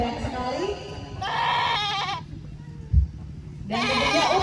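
A goat bleats several times at an outdoor award event, loud and close, in wavering cries separated by short pauses, with a brief thump between them.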